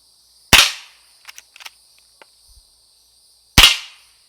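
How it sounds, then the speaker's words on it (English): Two sharp, fairly quiet gunshots from a rifle firing subsonic suppressor ammunition, spaced about three seconds apart, each with a short bright crack and quick decay, with faint clicks and handling noises between them. "So first three are going to be suppressor ammunition. Hilariously quiet."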